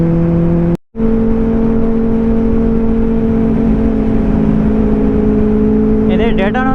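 A Triumph Daytona 675 sport motorcycle with a stage 2 tune runs along an empty road in cold weather, its engine giving a steady, loud droning hum throughout with a brief dropout near the start.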